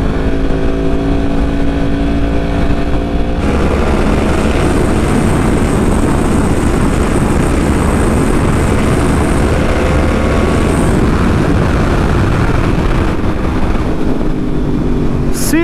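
A motorcycle rides on a road as the rider rolls the throttle on and off, a loud, constant engine drone under heavy wind rush that rises and falls in pitch, with a shift in tone a few seconds in.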